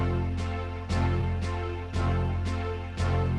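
Symphonic keyboard backing pattern played at double time, 112, giving a regal march feel with regular orchestral hits and sustained chords pulsing about twice a second; brief, steady and without talk.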